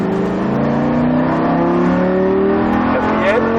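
A Lamborghini Gallardo LP-560 accelerates hard down a straight, its engine note climbing steadily in pitch, loud and close, as heard from inside the car.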